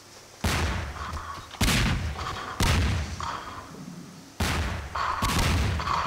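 Four heavy bomb blasts in the Gmod Melonbomber video game, each a sudden loud boom trailing off into a rumbling decay, spaced about a second apart with a short pause before the last.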